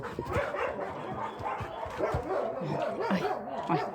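A shelter dog barks and yips excitedly in quick, uneven bursts, close by, with whimpering mixed between the barks.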